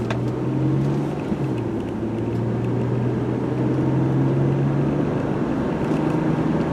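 A 2003 Nissan Maxima GLE sedan pulls out and accelerates to around 50 mph, its engine a steady, loud drone heard from inside the cabin, with a low tone that holds and shifts slightly as speed builds.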